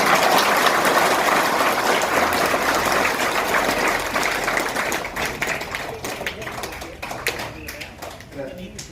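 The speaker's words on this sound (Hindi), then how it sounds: "तो निशा के लिए इतनी जोर से तालियां बजाओ दोबारा" An audience at a village legal literacy camp in Jhinjhaniyali, Jaisalmer, claps loudly at first, then the applause thins and fades into scattered claps and background chatter.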